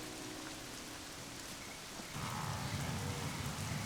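Heavy rain pours down in the Serengeti as a dense, continuous hiss of falling water that thickens and grows louder partway through, with no voices.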